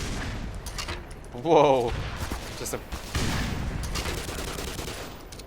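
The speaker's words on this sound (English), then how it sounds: "Let's hit it with a rocket launcher, shall we?" Rocket launcher fired at an aircraft carrier in the shooter game Black Mesa, a loud whooshing blast and rumbling explosion layered over continuous gunfire and game noise, with a voice exclaiming briefly.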